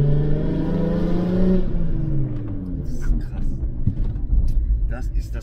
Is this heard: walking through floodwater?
no